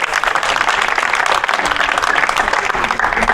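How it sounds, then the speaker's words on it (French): Audience applause fills a ceremony hall for a sculptor being honoured at a Légion d'Honneur society prize event: dense, steady clapping from many hands, close and sustained throughout with no speech over it. "Je crois qu'on peut l'applaudir pour cette belle réalisation."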